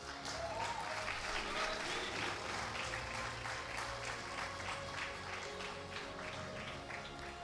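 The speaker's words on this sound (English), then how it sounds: "Keep going the big round of applause in recognition of his hard work and commensurate achievement" Sustained audience applause fills a national conference hall as a gold medal and cash prize winner is honoured, dense clapping at moderate distance lasting throughout.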